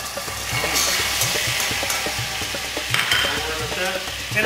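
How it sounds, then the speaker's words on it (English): Lemon juice hits sizzling browned butter in a hot pan, giving a loud, steady frying hiss with bursts of spattering and a few utensil scrapes and stirring clicks throughout. "Now we're going to add our lemon juice."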